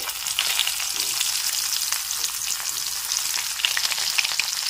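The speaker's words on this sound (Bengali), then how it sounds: "এবার এই তেলের মধ্যেই পেঁয়াজ কুচিটা দিয়ে দিচ্ছি, ভেজে নিতে হবে।" Chopped onion sizzles steadily in hot oil left from frying dried fish, a dense continuous crackle with no voices.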